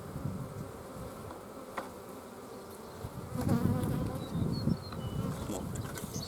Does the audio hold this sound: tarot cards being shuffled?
no